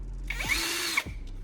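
A DeWalt cordless drill spins up, bores through a thick steel bracket with a strained metallic whine, then winds down, all within about a second and heard close by with no talk.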